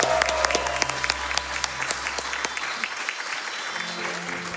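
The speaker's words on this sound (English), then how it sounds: "let's give a round of applause to SB Runs." Audience applause at a Summer Games Done Quick 2022 speedrun marathon event, a dense steady wash of clapping from a large crowd that tapers slightly toward the end, with a low hum in the room beneath.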